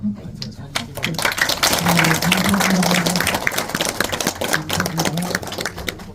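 An audience at a film screening bursts into clapping and cheering, a crowded sustained roar of hands with voices shouting through it, building quickly and staying loud throughout.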